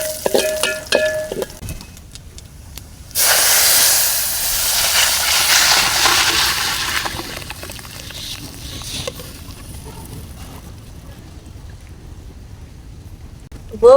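Cumin seeds hit hot oil in a village pan while khud rice is being cooked, bursting into a loud, steady sizzle that swells then slowly fades, with faint clatter before it.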